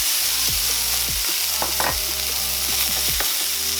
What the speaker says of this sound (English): Now we drop in our Brussels sprouts.